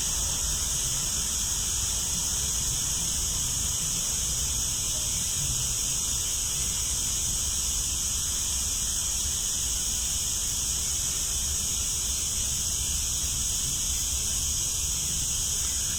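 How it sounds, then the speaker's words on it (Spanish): Crickets in a forest chirp in a steady, dense high-pitched drone that holds unbroken throughout, faint and continuous with no voices over it. "hay un poquito de ruido de grillos"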